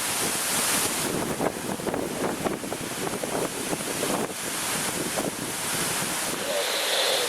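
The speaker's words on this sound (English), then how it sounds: "Wind's gusting up again." Gusty Tropical Storm Irene winds roar and buffet the microphone in loud, sustained rushes with surging peaks, a dense rumbling wash throughout that eases briefly near the end.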